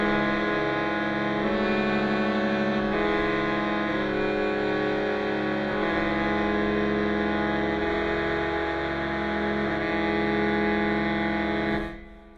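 Sustained, layered saxophone chord from the Chronicles Brass and Wood sample library, a loud, rich, reedy drone washed in reverb that shifts pitch slowly in steps before cutting off sharply at the end.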